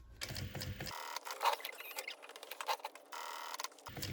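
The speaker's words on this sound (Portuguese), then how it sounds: "deixo a agulha pra baixo, levanto o calcador, viro a minha peça, ó, e continuo costurando" Sewing machine stitching around the flap of a fabric pacifier holder, quiet rapid ticking and pattering bursts of the needle with brief pauses between runs, close and faint.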